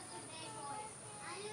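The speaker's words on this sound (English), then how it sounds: "You can hear my kids playing in the background." Children play in the background in a garden, their distant voices faint and scattered under a quiet outdoor hum.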